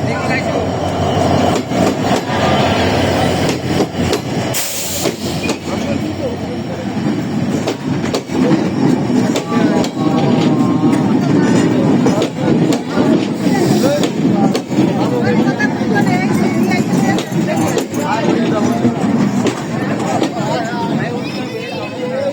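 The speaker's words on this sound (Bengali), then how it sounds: "আমাদের কপতক্ষ এক্সপ্রেস ট্রেনটি সিক্স সিক্স জিরো নাইন নিয়ে চলেছে ইন্ডিয়ান লোকোমোটিভ" The Kapotaksha Express passenger train bound for Rajshahi, hauled by an Indian locomotive, runs steadily with a loud, continuous rumble and clattering wheels heard from on board, with voices chattering in the background throughout.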